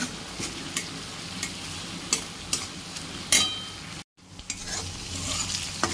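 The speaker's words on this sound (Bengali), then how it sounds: "এটা একটু নেড়ে ভেজে নেব।" Ginger-garlic paste with onions is stirred and fried in a pan for ghugni, a constant crackling sizzle punctuated by regular knocks of a spoon against the pan, briefly dropping out before resuming.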